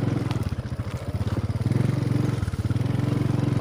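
Motorcycle engine running steadily while riding a plantation road through a coconut plot, a close, continuous mid-pitched putter that swells slightly partway through, with no talking.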